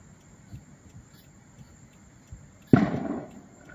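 A single firework goes off at night over a Walmart parking lot, one sharp bang trailing into a brief rumbling decay above a faint chirp of crickets.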